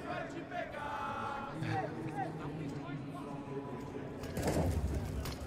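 At a Counter-Strike PGL Major match between FURIA and Spirit, an arena crowd cheers and chants as a loud, ragged roar beneath a commentator's voice, swelling strongly near the end.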